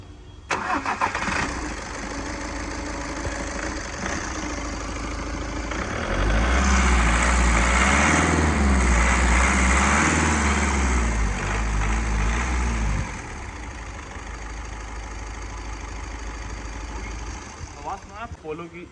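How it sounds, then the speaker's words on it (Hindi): Volkswagen Polo Highline 1.5 diesel engine cranks and fires, then settles into a steady idle with a louder rumbling stretch in the middle before easing back, recorded close to the engine bay. "सबसे पहले पोलो की सुनाता हूँ, आप इंजन के पास रहो, मैं स्टार्ट करता हूँ।"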